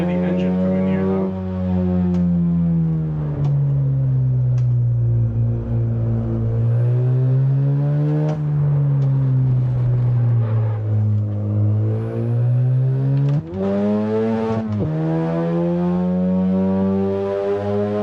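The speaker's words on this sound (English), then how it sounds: "I can better hear the engine from in here though." A car engine revs in the Initial D arcade racing game on the Fruits Line course, driving an FD in time attack. It is loud and continuous, rising and falling in pitch through repeated acceleration and shifts, heard from the in-car view.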